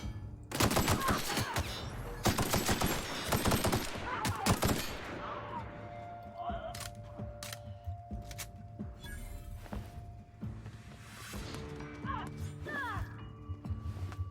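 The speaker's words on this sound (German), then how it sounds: "Jetzt baller ich gerade alles raus." Dense bursts of automatic gunfire in The Outer Worlds, loud rapid volleys crowding the opening seconds, then thinning into scattered shots and crashes amid game sounds.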